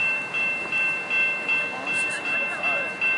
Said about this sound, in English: I can hear the vibrating of the rails here.